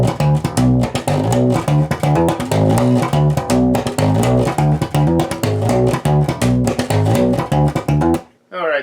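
Primus's "Hamburger Train" bass riff played on electric bass with double muted slaps and slides, a loud, dense percussive line of rapid plucked and popped notes running continuously before stopping abruptly.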